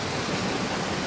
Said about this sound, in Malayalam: പിന്നെ നമ്മളെ വെള്ളം ചാടുന്ന സ്ഥലമാണ് അടുത്തത്. സൗണ്ട് കേൾക്കുന്നുണ്ടോന്ന് അറിയില്ല.